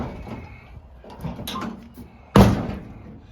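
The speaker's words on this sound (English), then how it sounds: "So the door actually opens and closes good" A car door on a custom project vehicle with a bent frame rustles and shifts through several soft knocks, then swings shut with one loud, close metallic thunk that rings out briefly.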